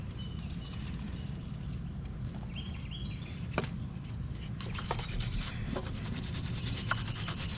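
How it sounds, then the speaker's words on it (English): Corrosion being scrubbed off a car battery terminal on an installed battery: a quiet, continuous rubbing and scraping with a few sharper scratches toward the end. "I'm going to scrub that a little bit more while it's installed here"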